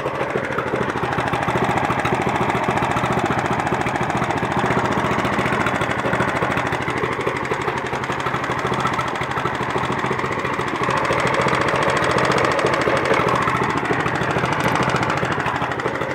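A warm engine with a suspected cylinder-head leak runs at idle, a dense, steady mechanical chugging with a slightly uneven, knocking pulse that continues without a break and no voices over it.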